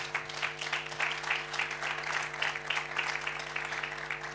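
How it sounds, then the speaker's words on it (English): Audience at a youth-owned brands awards ceremony applauding steadily for several seconds, a dense clatter of many hands at moderate distance with no voices over it. "Can we please clap it up for all our sponsors?"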